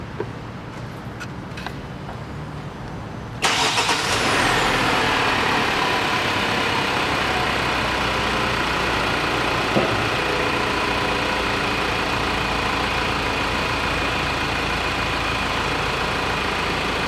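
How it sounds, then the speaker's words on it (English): A car engine cranks and catches at about three and a half seconds, then settles into a loud, steady idle close by that runs to the end, with no one speaking. "I'll start the vehicle up and we'll run through a test"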